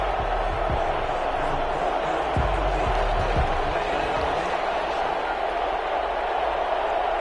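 Stadium crowd in the Madden NFL 21 video game before a Cleveland Browns versus Detroit Lions matchup, a steady roaring crowd bed with scattered thumps, under a commentator's voice.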